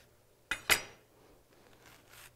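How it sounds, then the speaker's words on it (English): A knife cuts quickly through peeled bananas, giving two crisp, close taps in fast succession, followed by faint, soft rustling. "just slice these bananas very, very quickly"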